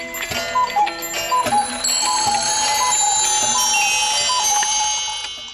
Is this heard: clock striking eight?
yes